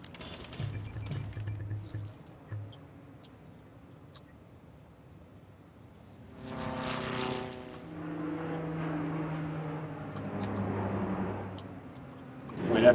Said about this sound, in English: Sorry about all the plane noise. I am working near the airport though